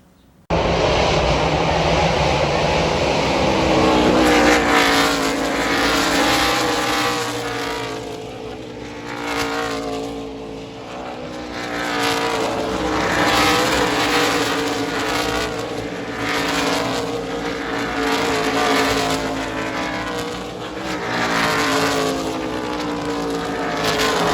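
Race cars at Road America powering up through the esses, a loud continuous engine roar that swells and fades as several cars pass in succession, heard alone without talk.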